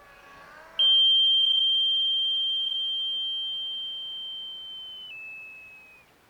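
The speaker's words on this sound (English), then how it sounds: "the charge capacitor drains across the buzzer to alert that a failure has occurred" A brief murmur gives way to a single piercing electronic tone from a power failure alarm buzzer, sounding continuously, slowly fading and dropping slightly in pitch as its charge capacitor drains.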